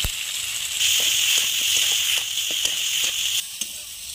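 Chicken sizzles and fries steadily in a hot pan as Kashmiri chillies go in for an egg chicken roll, a loud continuous hiss broken by stirring scrapes and small pops.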